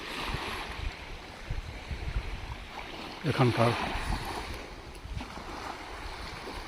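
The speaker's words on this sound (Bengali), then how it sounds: "নৌকা দ্রুত বেগে সাগরের মধ্যে যখন ছুটে যায়" A boat speeding across the sea near Havelock, with steady wind and water rush throughout and a brief splashing surge midway, while a voice speaks faintly over it.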